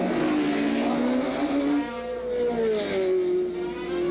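Race cars at the 1965 Indianapolis 500 roar past at speed, the engine notes sliding downward as they pass, a dense, loud, continuous snarl with no voices on top.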